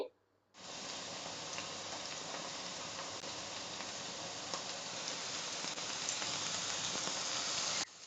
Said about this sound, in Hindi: अब चांपे शामिल करेंगे और थोड़ी देर भूनेंगे